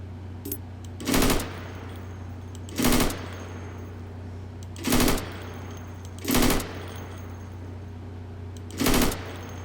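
Rifle shots fired at targets through plywood in the Insurgency video game: five loud, sharp single shots spaced about one to two seconds apart over a steady low hum, no voices.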